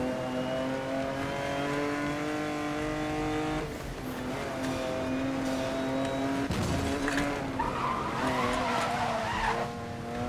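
In the Need for Speed: Most Wanted (2012) video game, a car's engine whines with steady high revs, then drops as the tires squeal and skid under hard braking, followed by further skidding scrapes.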